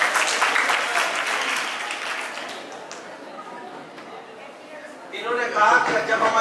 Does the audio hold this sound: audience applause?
yes